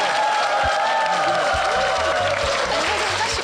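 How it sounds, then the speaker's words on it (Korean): A studio audience at a Korean talk show applauds in a dense, continuous wash of clapping, with a sustained tone ringing through and a low rhythmic pulse underneath. "자, 박수 한번 주세요."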